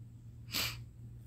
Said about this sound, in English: Sorry if I'm sniffling a lot.